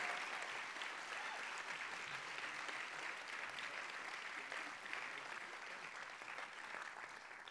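A lecture-hall audience keeps applauding its speakers, giving a dense, even wash of clapping from many hands that holds steady throughout at a fairly soft, slightly distant level.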